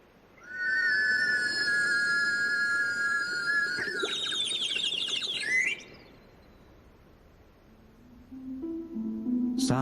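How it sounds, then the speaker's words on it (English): A cup fixed to a warbling whistle is lowered into a tank of water, producing loud, bright, bird-like trills and chirps that waver and slide for several seconds, then fade to a low gurgle before a lower whistling tone returns. "Just a cup attached to a warbling whistle being lowered into a tank of water."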